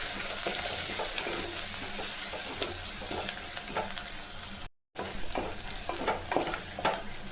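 Shallots sautéed with green chili and turmeric in a pan give a steady close sizzle and frying hiss with scattered stirring scrapes, broken by a very brief silent gap.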